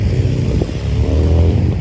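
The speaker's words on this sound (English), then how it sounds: "Lots of motorcycles around here today." Motorcycle engines rumble nearby, a loud, throaty low drone with slight revving as they pass, no talking.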